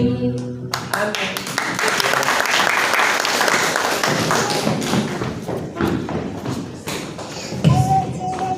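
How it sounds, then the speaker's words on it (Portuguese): A congregation at an evening church service bursts into loud, continuous applause mixed with thumps and shuffling, tapering off after several seconds as voices rise over it. "Aguentar essas palmas, né?"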